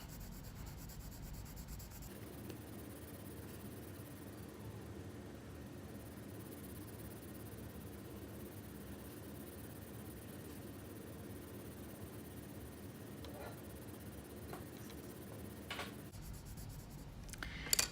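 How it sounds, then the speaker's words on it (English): Graphite pencil shading on paper with a soft 6B lead, a steady close rubbing scratch that runs continuously for long stretches and stops near the end. "So now I'm going to switch to my 6B so I can get these very dark shadow core areas."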